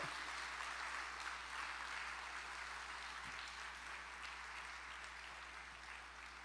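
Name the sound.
congregation applause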